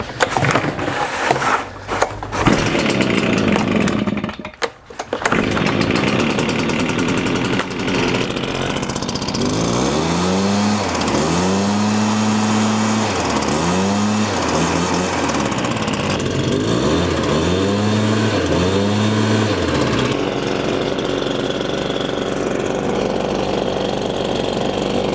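After pulls, a STIHL leaf blower's small two-stroke engine catches and runs loudly, with repeated sharp revving surges rising and falling over a steady idle.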